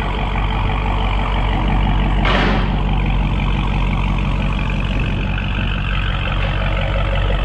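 A brand-new 2021 Dodge Charger Widebody Hellcat with new muffler tips idles with a loud, deep, continuous exhaust rumble close by. A short hissing burst cuts in early.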